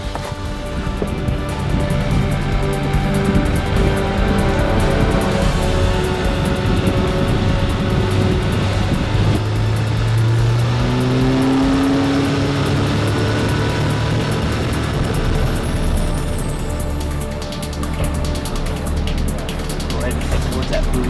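A motorboat engine drones steadily on a reservoir in Idaho, a loud close continuous hum with rising and falling pitch as the throttle changes, with no talk over it.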